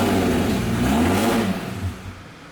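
A Lamborghini twin-turbo engine with a hesitation fault revs up and then dies out, a strong, steady engine roar near the mic that fades and drops away toward the end.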